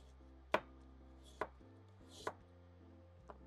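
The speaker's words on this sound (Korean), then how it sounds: "유부초밥에 넣을 거니까 잘잘하게 하시면 돼요." Four crisp knife strikes finely chopping carrots on a cutting board, spaced about a second apart, close and clear over a faint steady background hum.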